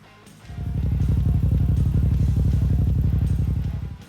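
Moto Guzzi V7 Sport engine revving up close, a loud, pulsing, throbbing drone with rapid firing beats that swells quickly and holds steady before easing off.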